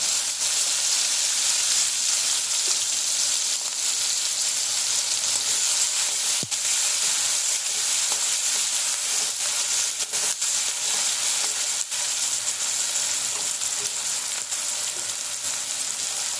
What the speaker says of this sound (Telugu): ఆనియన్స్ చిల్లీస్ వేస్తున్నాం బాగా వేగాలి ఇది